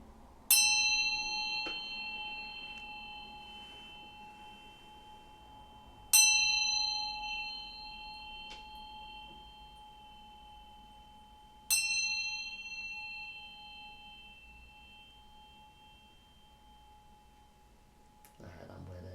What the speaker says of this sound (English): I'm going to ring this bell to bring in some good vibes, welcome spirit in